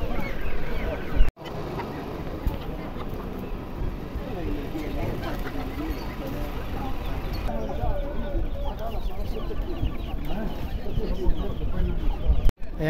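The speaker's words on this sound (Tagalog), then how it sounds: "Ito mga manok, no? Maliliit, mga sisiw, bibe" Chickens cluck among livestock at an outdoor animal market in Fossano, Italy, with continuous crowd chatter and people talking nearby over the birds' calls.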